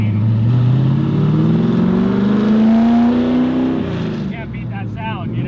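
A 1968 Camaro drift build with straight-pipe exhaust revs loud and close, its raw drone climbing steadily in pitch for several seconds before dropping off into a rougher, crackling idle.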